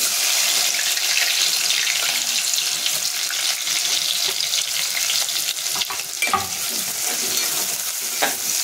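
Two large chopped onions sizzle in a pan while being stirred for zunka, a loud close frying hiss with occasional scraping clinks of the spoon, no voices.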